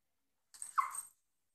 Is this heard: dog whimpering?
yes